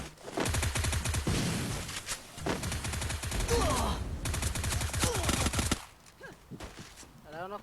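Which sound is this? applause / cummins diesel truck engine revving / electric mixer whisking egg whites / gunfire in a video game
gunfire in a video game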